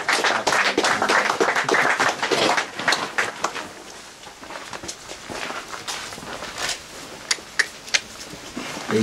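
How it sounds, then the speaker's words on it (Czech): Audience applause at a carp fishing awards ceremony, a dense patter of many hands clapping that starts strong and thins out, with a few louder claps near the end and no talking. "takže potlesk pro Zuzku"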